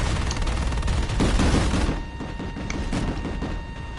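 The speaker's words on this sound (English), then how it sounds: "everything is either being shot or shooting, and it's not one of those two, it's exploding" Dense, continuous gunfire and explosions in the sci-fi shooter Planetside 2, a loud wall of overlapping shots and booms that swells midway, then settles into steadier rattling fire.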